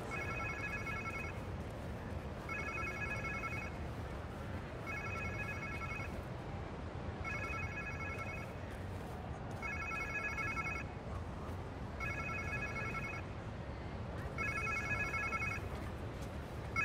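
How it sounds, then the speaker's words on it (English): A phone rings in Marvel's Spider-Man 2, with seven evenly spaced double-burst electronic rings repeating over a steady game ambience backdrop, no talking. "Sounds like somebody's phone."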